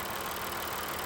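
A used car's engine idling smoothly, a steady, even low hum close by with no knocks or irregular noises, running alone without talk.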